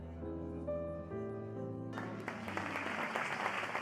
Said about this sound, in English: Applause fills the hall.